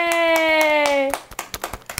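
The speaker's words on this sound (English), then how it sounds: "Give yourself a round of applause." Hands clapping in applause for a small child, a quick run of close, sharp claps following a long sung or cheered vocal note, the claps continuing alone after it breaks off.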